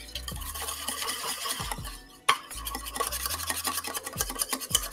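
A tiny whisk beating sesame dressing in a small container, rapid scratchy metallic strokes with a brief pause midway, close and continuous, no talking.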